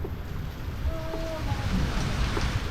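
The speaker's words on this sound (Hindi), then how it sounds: "झमाझम बारिश हो गई है बहुत ही स्पीड से" Steady broadband hiss of heavy rain pouring fast and continuously in the mountains, with a faint brief tone passing through the wash.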